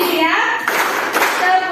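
Children clap their hands in a brief burst while chanting "tepuk siang, tepuk malam" in Indonesian, close and fairly loud.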